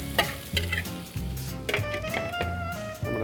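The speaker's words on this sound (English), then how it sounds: "I'm going to grab the eggs again that I whisked up. And we're going to go ahead and add that to the pan of mushrooms." Whisked eggs poured into a hot pan of mushrooms sizzle steadily while a utensil stirs and scrapes, giving soft irregular clicks and knocks near the microphone, with no talking.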